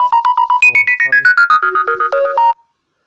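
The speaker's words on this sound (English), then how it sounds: "that was just a phone call." A phone ringtone plays a bright, rapid melodic pattern of short repeated tones, loud and close, stepping through several pitches for about two and a half seconds before stopping, with no voices over it.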